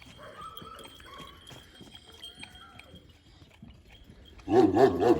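Kangal dogs on a farm at sunset feeding time break into loud, close barking near the end, after a stretch of quieter yard noise and faint voices.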